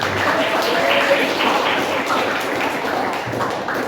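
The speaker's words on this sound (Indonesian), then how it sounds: "mari kita beri tepuk tangan untuk semuanya" Students in a classroom applaud together after their presentations. The dense, continuous clapping is close and fairly loud, with a murmur of voices underneath.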